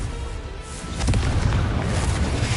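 A Confringo fire spell explodes in the Hogwarts Legacy video game, a broad booming burst that swells over a constant rumbling game background.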